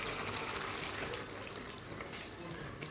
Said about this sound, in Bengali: দিয়ে দিলাম পরিমাণ মতো পানি।